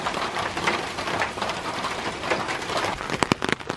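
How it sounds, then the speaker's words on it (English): Steady rain falls outdoors as a dense, even hiss with a few sharper drops near the end, moderately loud and with no voices over it. "It's raining."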